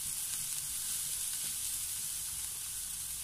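Onions sauté in a pan for pork binagoongan, a steady close sizzle and crackle with no pauses.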